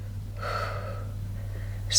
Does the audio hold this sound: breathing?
yes